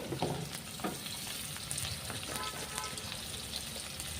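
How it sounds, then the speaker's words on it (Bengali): Potatoes fry in a pan for a broad bean and tangra fish curry, a soft, steady sizzle with a few crackles and stirring clinks, fairly quiet and close. "সিম কিন্তু ভাজবো না, আলুটাকেই ভাজবো মেনলি।"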